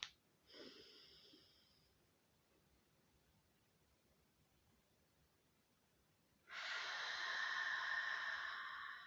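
Two slow breaths during a guided breathing exercise, a short airy draw through the nose followed by a longer, louder inhale, close and quiet with no talking.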